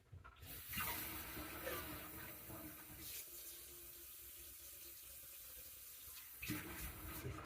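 Water poured into a pan as a small oil substitute while cooking vegan sloppy joes, a steady close splashing pour that holds for several seconds with a brief pause near the middle.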